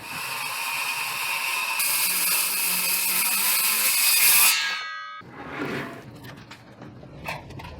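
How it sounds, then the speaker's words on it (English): A power saw whines loudly through plywood for about four seconds, then winds down. Softer knocks and handling noises follow in a building under renovation, with no voices. "So I'm gonna cut some plywood down right now to cover up the floor vent"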